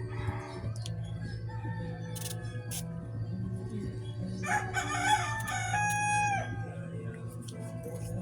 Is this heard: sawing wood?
no